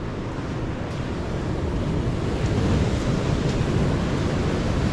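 Pacific Ocean surf washes continuously onto the shore, a broad steady roar of breaking waves mixed with wind buffeting the microphone, heard alone without voices.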